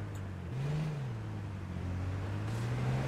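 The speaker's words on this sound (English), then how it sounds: "I heard a car coming." A vehicle in H1Z1 approaches with a steady low engine drone that rises in pitch and slowly grows louder, heard from a moderate distance and without talk.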